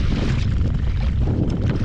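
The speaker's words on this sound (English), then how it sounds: "it's getting windy" Steady wind blowing across open ocean water during kayak fishing near Wheeler North Reef, a continuous low rumbling buffet against the microphone with no pauses and no talking.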